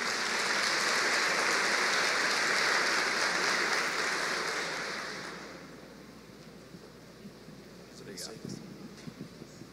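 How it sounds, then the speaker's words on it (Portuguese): A church congregation applauds loudly and steadily for about five seconds during a worship service, then the clapping fades out, leaving quiet room noise and a few faint sounds. "Vamos dar um aplauso ao Senhor"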